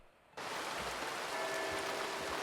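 Rain in Red Dead Redemption 2 starts abruptly after a brief quiet moment and then holds as a steady hissing wash of falling water with no talking.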